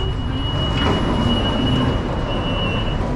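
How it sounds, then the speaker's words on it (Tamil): A driverless Delhi Metro train running, a loud, steady rumble of the moving carriage heard from close range, with a thin high wheel squeal drawn out over the continuous roar and no voices. "இது வந்து லைக் டிரைவர்லெஸ் மெட்ரோங்க, அருமையான ஒரு மெட்ரோ"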